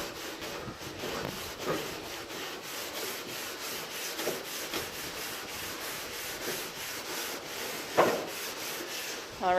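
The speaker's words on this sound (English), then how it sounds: "So just a few scrubs, and again you can apply pressure with this side, so back and forth" A barbecue grill is scrubbed clean with a back-and-forth motion under pressure, giving a continuous close rasping rub with rhythmic strokes and a sharper scrape near the end, without talk.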